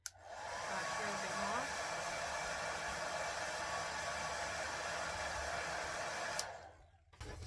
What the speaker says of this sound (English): Now, if you're using a heat gun, obviously you would not hold it there for that long.